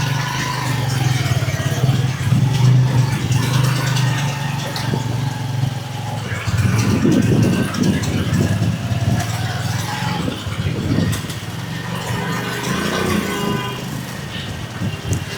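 A modified TVS Victor 100cc cafe racer motorcycle engine hums steadily while riding on a rough off-road-type road, with a low rumble throughout and occasional surges in revs.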